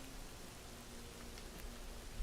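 Steady rain falling in the video game Skyrim, a soft even hiss of drops continuing unbroken and fairly quiet throughout, with no voices.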